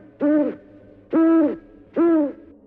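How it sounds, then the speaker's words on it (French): An owl hoots three times in a slow, evenly spaced series, each call a clear, rounded note standing alone against near silence in a quiet, deserted setting. "j'entende le bruit de ce qui semblait être un hibou"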